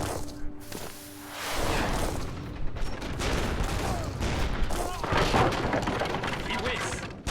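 Musket volleys and artillery fire from a battle in the video game Age of Empires III, a dense rumbling barrage of shots and booms with whooshing, a voice speaking over it.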